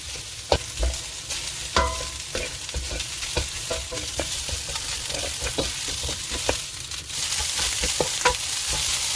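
Rice is stir-fried on high flame for fried rice, with a continuous loud sizzle and frequent sharp clicks and scrapes of the spatula stirring in the pan, close up and without speech.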